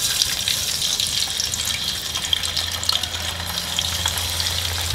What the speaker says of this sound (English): So the oil is nice and hot, and we're gonna go in and fry this.